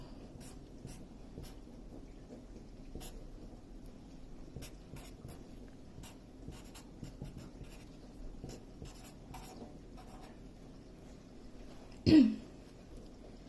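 Pen or marker strokes drawing a chemical structure by hand for an NMR, IR and mass-spec problem, a faint steady scratching across the whole stretch, ending in a brief louder squeak or scrape near the end.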